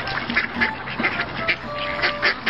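Cartoon ducks quacking, a series of repeated nasal quacks in an uneven rhythm, close and fairly loud over a faint background.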